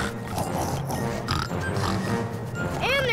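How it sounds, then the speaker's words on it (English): Cartoon pigs oink and grunt in a Fisher-Price Little People animated episode, several short snorty calls over busy background music and effects, ending with a rising squeal-like sweep. "here comes the three little pigs"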